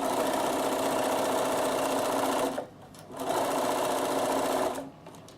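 Bernina sewing machine stitching a hem on a reversible vest, a loud close steady whirring hum that runs for two and a half seconds, pauses briefly, then runs again before stopping.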